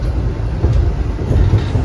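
Loud, steady rumble of the Argo Semeru executive passenger train rolling along the rails between Surabaya and Jakarta, with a continuous low roar and faint rhythmic clatter, no talking.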